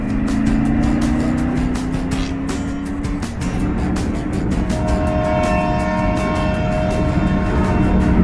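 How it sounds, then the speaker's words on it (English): A train passes near a highway in Texas in hot weather. There is a loud, continuous rumble, and long, steady horn tones sound over it as they shift in pitch, heard up close without any voices. "I instantly turn into a 5-year-old little boy whenever I hear a train horn"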